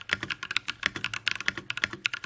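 Quick, crisp keystrokes on a mechanical keyboard, a dense irregular run of sharp clacks heard up close and alone for a couple of seconds.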